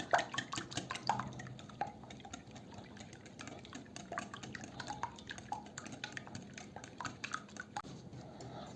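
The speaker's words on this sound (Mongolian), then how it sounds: "4 үндгийг хийгээд сайн хутгаж өгнө." Four eggs are whisked in a bowl for orange cake batter, a fast run of light wet clicks and taps of a whisk against the bowl, moderately quiet and continuous.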